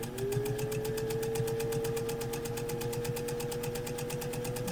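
A 1955 Singer 201-2 sewing machine stitches steadily up close, its needle clattering in a fast even rhythm over a smooth motor hum, running alone without talk.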